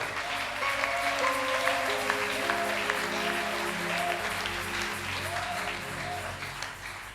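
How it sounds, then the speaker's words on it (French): A church congregation applauds and acclaims during a worship service, a steady wash of clapping with sustained music tones underneath and voices mixed in. "Tu peux encore acclamer le Seigneur."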